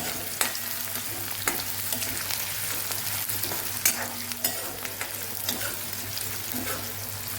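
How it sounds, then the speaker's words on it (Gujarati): Chopped onions frying in oil in a pan for a Kathiyawadi dhaba-style peanut and tomato curry, a continuous sizzle broken by scraping and clinking as a spoon stirs them, close and without speech. "હવે જે ડુંગળી સુધારેલી એ આપણે ઉમેરી દેશું અને આપણે સરસ મિક્સ કરી લઈશું"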